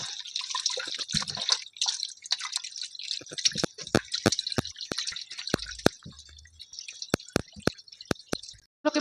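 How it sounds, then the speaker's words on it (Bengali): Rui fish are rinsed in water, with a run of sharp, close splashes and drips that come faster and more rhythmically toward the end over a steady trickling hiss. "এখন পরিষ্কার করে ভালো করে ধুয়ে নেব।"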